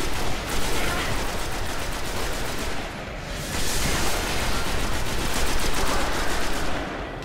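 Rapid, dense gunfire from the video game Destiny rattles on without pause through the whole stretch, a loud, continuous barrage of shots during a co-op mission.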